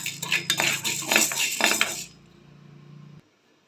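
A metal spoon scrapes and clatters briskly against a pan as a little urad dal roasts for garlic kuzhambu. The close, busy rattling lasts about two seconds, then drops to a faint low hum before going quiet.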